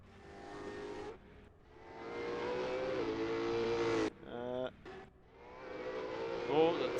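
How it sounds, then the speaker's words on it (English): Simulated V8 Supercar engines from a racing video game, one bouncing hard on the rev limiter, with rising and falling high-pitched revs that cut out abruptly and return, heard under continuous commentary from a person talking. "We've got someone on the rev limiter"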